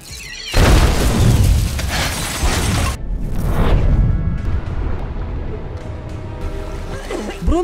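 A sudden, loud explosion erupts into a long, rumbling roar, then a second blast follows and fades into lingering debris noise.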